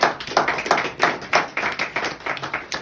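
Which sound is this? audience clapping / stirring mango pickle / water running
audience clapping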